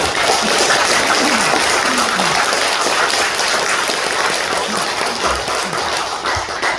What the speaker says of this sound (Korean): 박수로 한번 환영하십시오